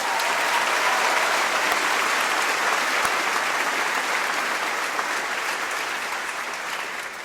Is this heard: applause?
yes